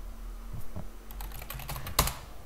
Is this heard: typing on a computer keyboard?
yes